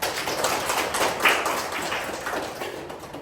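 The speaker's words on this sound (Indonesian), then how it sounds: "kita berikan aplaus" An audience at a lecture session applauds, a steady dense patter of clapping that holds at an even level for a few seconds and fades slightly at the end, with no voices over it.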